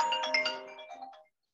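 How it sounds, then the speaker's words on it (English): A phone ringtone from an incoming call plays a short, bright melodic phrase of chiming tones and then stops abruptly into silence. "Sorry, got a phone call."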